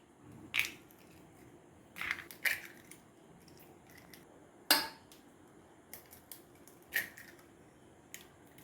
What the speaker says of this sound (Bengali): 3টে ডিম ভেঙে নেব।